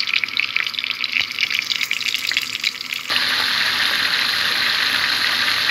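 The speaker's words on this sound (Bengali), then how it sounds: "তেল গরম করে নিয়েছি এবং মাছগুলোকে আমি ভেজে নিব।" Tilapia fish pieces drop into hot oil in a pan, bursting into a loud crackling sizzle that settles into a steady, dense hiss of frying.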